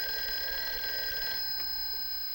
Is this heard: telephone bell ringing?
yes